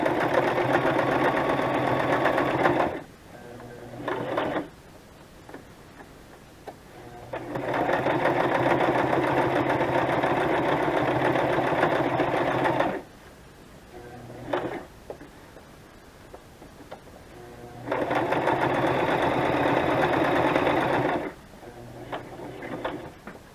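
A sewing machine stitches through playing cards in three long, steady, loud mechanical runs, separated by quieter pauses with faint handling clicks.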